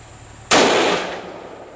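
A single sharp gunshot firing a hollow point round from a short distance cracks loudly outdoors, then its report decays over about a second.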